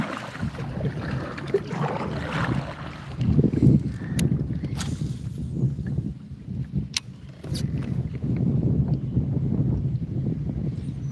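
A kayak paddles through chopped-up lily pads, with soft water splashes and paddle strokes coming in uneven bursts, close to the microphone under light wind noise.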